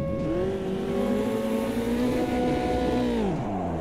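F3 race cars at the start of a race in Automobilista 2 (AMS2), with a loud, close, steady engine whine rising in pitch and then dropping sharply as the car shifts gear.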